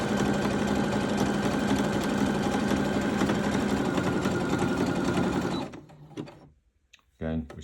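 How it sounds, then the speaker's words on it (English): A Brother Innovis 15 sewing machine stitches at a fast, steady buzz, loud and close, then stops abruptly and a voice begins speaking. "we can just run the machine, and that will give us that stitch straight away."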